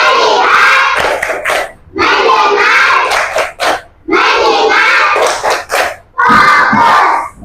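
Children in an elementary school classroom shout and clap together in a counted clapping ice-breaker game, with loud bursts of group voices and claps separated by brief pauses.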